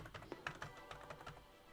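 Quick keyboard shortcut presses on a computer keyboard while navigating Notion, a run of close, light clicks and taps in an uneven rhythm, quiet and with no voice.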